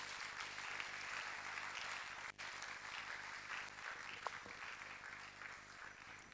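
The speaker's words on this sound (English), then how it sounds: "give a clap offering unto the Lord" A church congregation at a Sunday worship service gives a clap offering, a steady wash of applause that fills the whole clip with one brief dip midway.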